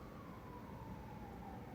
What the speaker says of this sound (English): Oh, we're getting bonus, what is it, police sirens?